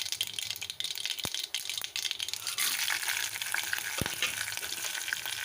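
Mustard seeds spluttering in hot oil, a dense steady crackle and sizzle with a few sharp pops, close by and alone with no voices, as the oil tempering for amla (nellikai) rice gets going.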